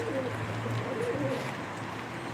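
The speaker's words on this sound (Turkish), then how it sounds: "Arkadaşlar bu benim beslediğim kuşlar bunlar." Ringed pet pigeons cooing steadily, with low repeated coos over a constant background murmur and no talk.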